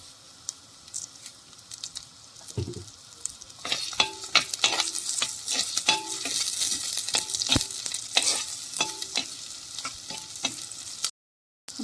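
Green chillies and onions with a little salt sauté in a pan for a Vaikom-style pork roast: a soft sizzle is joined by rhythmic, close spoon-scraping strokes that grow busier, ending with a sudden cut to silence.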